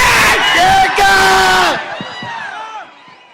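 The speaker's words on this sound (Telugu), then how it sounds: "మన బాద్షా అలా ఉందని తెగ కేకలు పెట్టేస్తున్నారు" A crowd at the Baadshah audio launch, an NTR film event, screams and cheers loudly in a roaring mass of yells and whoops, then thins out into scattered shouts and fades.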